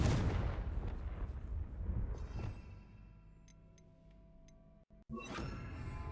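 Confringo, the blasting spell in Hogwarts Legacy, cast as a booming burst with a long rumbling tail that fades, followed by a few faint ticks and a short crackle near the end.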